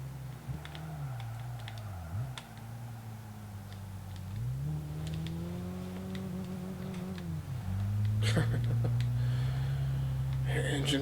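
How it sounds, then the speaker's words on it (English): A car engine in Gran Turismo blips and revs as it climbs a hill, steady drone rising and falling in pitch with bursts of throttle, continuous and moderately loud. "Engine blipping itself trying to get up the hill."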